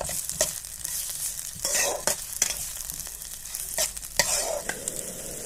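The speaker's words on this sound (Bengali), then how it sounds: "তেলের মধ্যে পেঁয়াজটিকে একটু হালকা করে ভেজে নেব" A large chopped onion fries in mustard oil in a wok, a soft bed of sizzle cut by several sharp bursts of stirring and scraping at irregular intervals, heard close with no speech.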